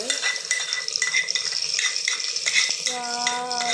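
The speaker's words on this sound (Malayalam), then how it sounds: "നല്ല തിളയ്ക്കുന്ന സാമ്പാറിലോട്ട് നമ്മളെ കടുവറുത്തിടുന്നുണ്ട്." Mustard-seed tempering stirred into boiling sambar, heard as close, rhythmic metal spoon scrapes and clinks against the pot over a soft sizzle, ending in a ringing metallic tone.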